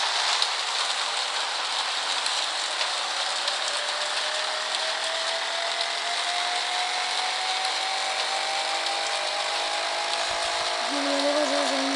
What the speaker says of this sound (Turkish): Yağmurlu.